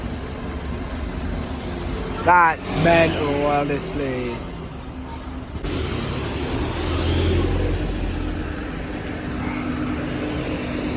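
A London bus riding through traffic, its engine drone and road rumble steady throughout with a brief air-brake hiss, while people chat briefly over it.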